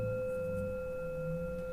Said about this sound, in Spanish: El cuenco solito suena así.